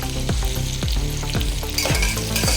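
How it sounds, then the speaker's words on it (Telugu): Green chillies and curry leaves fry in hot oil alongside onions for coconut rice, crackling and sizzling loudly and close, with rhythmic stirring scrapes repeating about every half second and no voices. "పచ్చిమిర్చి వేగాక తర్వాత కొంచెం కరివేపాకు"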